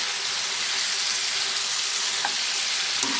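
Brinjal curry frying in a pan while being stirred, a dense continuous sizzle with faint scraping taps near the end, close and steady, no voices.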